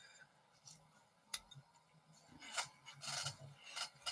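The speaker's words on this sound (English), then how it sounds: "Wrong scissors." Scissors handled and snipping during a sewing session, a few sharp clicks and rasping cuts close by over a soft background.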